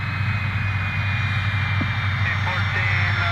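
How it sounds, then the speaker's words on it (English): A steady jet engine roar fills the scene as a Gulfstream business jet passes on its landing approach, with a constant low rumble and a faint high whine throughout. "Here's the Gulfstream that's coming down"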